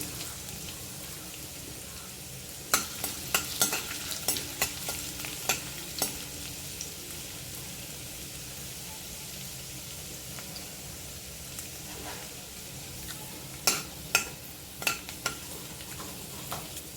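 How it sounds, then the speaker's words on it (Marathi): Garlic and ginger frying in hot oil for a veg Schezwan fried rice: a constant close hissing sizzle with bursts of crackling spatter and light stirring taps, no talking. "तेल तापले त्याच्यावर लसूण टाकते आधी और आलं टाकून घेते"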